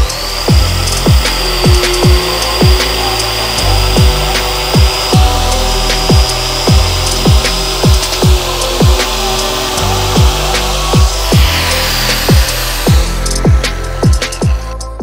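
An edge milling machine with indexable inserts cuts metal at sufficient feed, giving a loud, steady grinding whine broken by regular rhythmic chatter pulses, with no talk.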